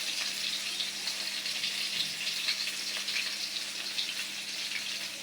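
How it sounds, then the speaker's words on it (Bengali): Oil heating in a wok (kadai) over a village cooking fire gives a steady, soft hiss of sizzling, continuous and even throughout with no talking. "এই কড়াইতে তেল দেবো"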